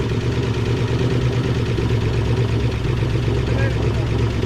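A 1966 Ford Mustang engine runs in a steady, loud, low rumbling idle throughout, continuous and close with no break or change in pace.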